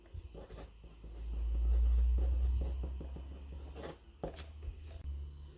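Coloured pencil scribbling on paper to build up colour and tone, a steady close scratching and rubbing with quick repeated back-and-forth strokes, alone with no talk.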